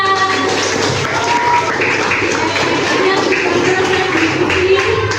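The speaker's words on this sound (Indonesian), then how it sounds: "anak-anak, tepuk tangan buat kita semuanya" A classroom of children applauding together, a busy patter of small hands clapping with voices calling out over it, steady and close throughout.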